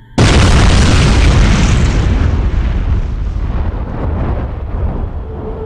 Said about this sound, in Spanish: Hubo una explosión poderosa y toda la nave espacial tembló